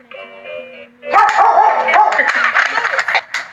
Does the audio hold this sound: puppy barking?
yes